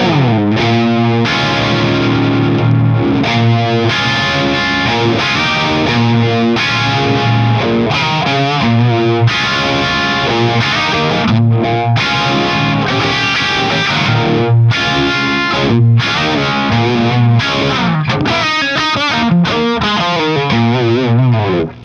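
Distorted electric guitar through a JHS Unicorn v2 univibe pedal playing a steady riff with a swirling, throbbing modulation effect, loud and continuous with no talking.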